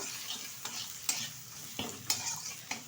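Fish curry stirred in a pan with turmeric and salt: a steady low sizzle of frying with several sharp scraping strokes of a spoon against the pan, close and alone.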